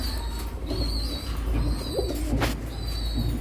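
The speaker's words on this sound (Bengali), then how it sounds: "এখানে এক জোড়া সিল্কি লক্ষা, মাশাআল্লাহ কবুতর জোড়াটি খুবই ভালো" A pair of full-crested silky lacquer pigeons coos softly in a loft, with repeated low murmuring calls over a steady background hum and a few faint higher chirps.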